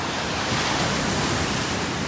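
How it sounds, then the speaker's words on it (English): Big post-storm waves, six to eight feet tall, crashing on the Lake Superior shoreline, heard from high above as a continuous loud roar of surf with wind, and no voices. "these waves are probably about 8 feet tall, I'd say, 6 to 8 feet"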